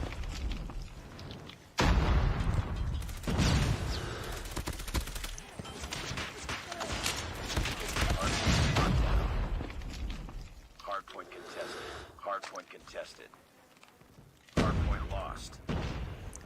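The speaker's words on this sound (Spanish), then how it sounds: "no creo que quieras escuchar que nada más disparo" Dense, continuous gunfire and explosions from a COD Mobile match, loud sustained volleys with brief lulls, mixed with voices talking throughout.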